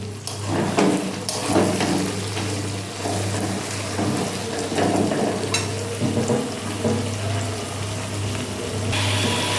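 Onion, garlic, chili and tomato frying in a pan with panch phoron and bay leaf, a steady close sizzle with occasional stirring scrapes and a low constant hum underneath throughout.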